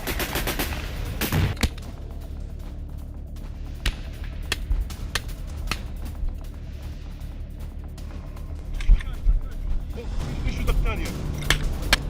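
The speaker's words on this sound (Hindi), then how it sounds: "इजरायली सेना पर ताबड़तोड़ फायरिंग" Bursts of gunfire from ground fighting between Hamas and Israeli forces in Gaza, including an attack on an IDF convoy, crackle in sharp scattered shots over a steady rumbling background, with voices present.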